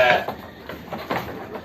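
Newborn twin lambs and their first-time ewe bleat, a loud close bleat at the start followed by several shorter, softer calls spread across the moment.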